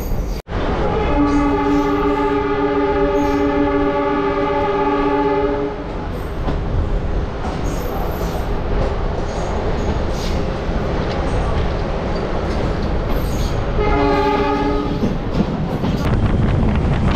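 A local train on the Sealdah to Darjeeling route rumbles along loudly, its horn sounding a long sustained blast and then a shorter one later over the constant rolling clatter of the wagons.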